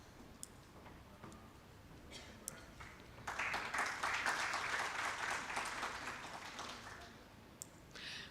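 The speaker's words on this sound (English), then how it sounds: "Please give her a round of applause." Applause breaks out for a woman panelist at a national workshop on pension schemes, a burst of steady clapping from a hall audience lasting several seconds before fading back to quiet room tone.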